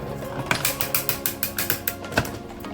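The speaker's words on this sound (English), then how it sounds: "And if you're not familiar with die cutting, that little popping sound you just heard" A hand-cranked die cutting machine pressing paper, a die and plates on a cutting pad: a rapid run of close mechanical clicks and ratcheting with a few sharper pops, with no talk.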